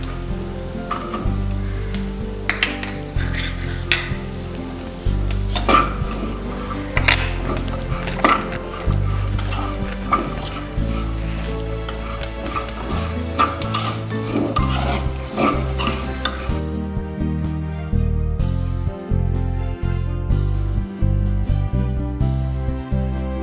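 Raisins roasting over low heat in a pan for dry fruit laddu, stirred steadily with repeated scraping and clinking against the metal under a continuous soft sizzle, while a background tone runs throughout.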